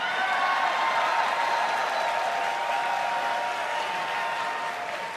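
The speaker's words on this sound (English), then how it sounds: "He got louder claps than you did." An audience at BlizzCon 2016 applauding during a World of Warcraft Q&A panel, sustained dense clapping from a large crowd that fades slightly toward the end.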